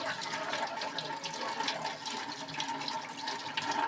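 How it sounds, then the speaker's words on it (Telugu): Tap water runs steadily over hands at a sink during food preparation, a continuous close splashing and trickling wash with no talk. "hand wash"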